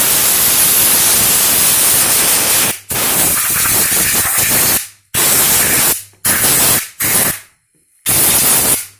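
Compressed air can spraying in loud, steady hissing bursts while cleaning an Armma Kraton 6S RC car, five or six blasts of a second or two each separated by short pauses.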